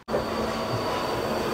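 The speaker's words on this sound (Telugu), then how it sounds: "మన మెట్రో కూడా వచ్చేసింది" A metro train pulls into a station with a steady loud rumble and a thin, high wheel squeal running throughout, close by and without voices.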